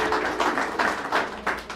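Guests at a wedding ceremony applaud together, a moderate, steady burst of clapping with a few louder pulses, heard at mid distance.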